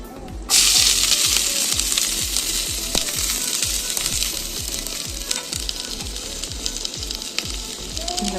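Sliced onion drops into hot coconut oil for an egg curry and sizzles loudly and steadily up close, with a rhythmic tapping of a utensil against the pan running underneath throughout.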